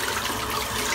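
A boar shaving brush is rinsed clean under running warm water, a steady close hiss and splash of the flowing tap with no voices.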